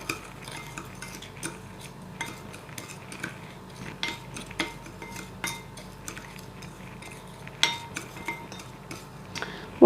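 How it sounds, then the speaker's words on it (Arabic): Ground oats being stirred into dry ingredients in a bowl, a spoon scraping and clinking steadily against the sides with small irregular taps, close and clear with no talking. "هبدأ أقلب المكونات الجافة مع بعضها كويس جدا"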